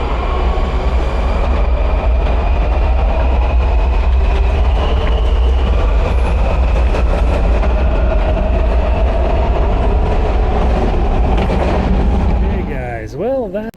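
A Washington, D.C. metro subway train runs loud and steady for over twelve seconds, a continuous rumble with rhythmic clatter and high whining tones, ending in a short burst of rustling.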